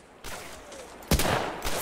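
Enemy gunfire in the World War II shooter Medal of Honor Allied Assault: three sharp bursts of shots, the loudest near the middle, each trailing into a short noisy tail.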